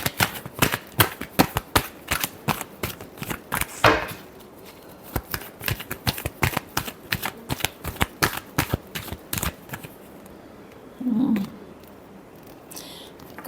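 Tarot cards being shuffled in quick, crisp riffling bursts, close and fairly loud, with a steady patter that stops partway through, leaving a brief soft sound and quiet; no talking.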